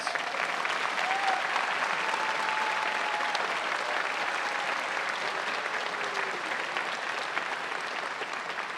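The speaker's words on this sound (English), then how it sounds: "Let's please give all of our honorees another round of applause." Steady, dense applause from an audience at an honors convocation ceremony, sustained at an even level throughout with no talk over it.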